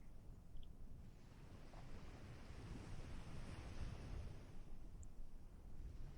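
Steady ocean surf rolls against the shore in a continuous low wash, with a faint windy rumble and no distinct wave breaks, forming a soft, even bed of sound throughout.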